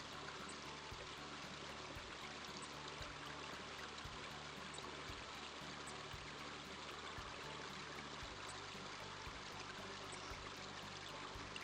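Fast-flowing river water in King's Quest V, a faint, steady rushing stream with an even, continuous wash and no voices.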